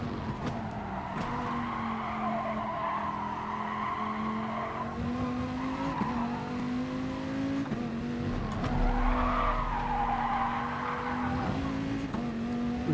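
A race car lapping Spa in the GT Sport video game drones steadily at high revs, broken by repeated bursts of tyre squeal and skidding as it works through the corners.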